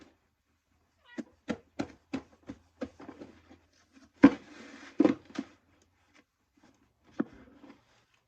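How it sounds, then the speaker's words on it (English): Cat meowing in a home, a quick series of short, close meows followed by a louder drawn-out cry and a few more meows with quiet gaps between. "don't mind the cat. He'll keep you company."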